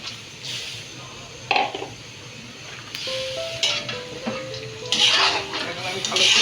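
Soaked lentils tipped into a pot of bottle gourd: clinks and knocks of utensils against the pot with soft wet tumbling over a low background hiss.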